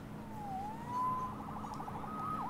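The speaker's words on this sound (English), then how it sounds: "Saved by the siren." A faint police siren in Marvel's Spider-Man wails and yelps in the distance, its pitch sweeping up and down over a low background hum.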